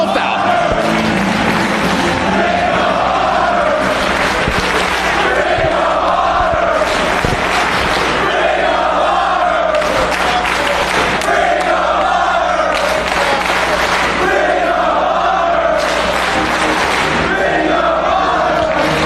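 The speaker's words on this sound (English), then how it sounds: "This capacity crowd showing their appreciation not only for these two great individuals in the ring" A capacity crowd in a Ring of Honor wrestling arena roars and cheers after a hard-fought match. The steady, loud roar swells in repeated waves, and a commentator talks over it throughout.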